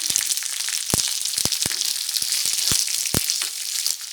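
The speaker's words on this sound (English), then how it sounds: "Fry it. Now add onions. And capsicum." Onions and capsicum frying in a pan for Paneer Manchurian: a loud, continuous sizzle up close, punctuated by several sharp clicks of stirring.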